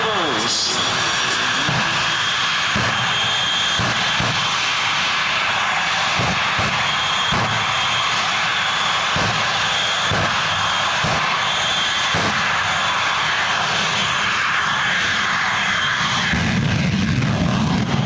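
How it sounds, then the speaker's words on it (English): The Shockwave jet truck running up its jet engines with afterburners at the 2004 Quad City Airshow, a loud, continuous roaring whine with rhythmic pulsing thumps, under an announcer talking over the public address. "Listen to him, he runs it up and starts the afterburns."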